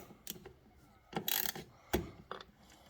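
Ratchet wrench clicking in short bursts as a nut on a TOR tailgate table bolt for a Jeep JK is backed off slightly, close and fairly quiet, with a few separate clicking runs and no talk.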